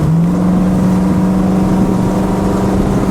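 A 1966 Buick Riviera Gran Sport with a factory dual-quad 425 V8 under light throttle; loud, close, steady engine drone with a sustained low hum that rises slightly, no talking.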